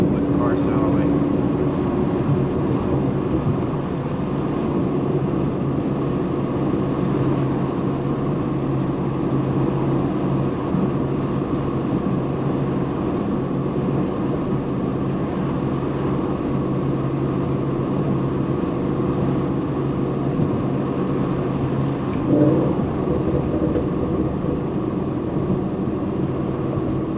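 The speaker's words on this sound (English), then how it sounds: "I'm gonna let y'all hear what the car sound like." Ford Mustang GT with a new aftermarket exhaust setup drives along, its steady low engine drone and exhaust rumble continuing throughout at a fairly constant level, heard from inside the car.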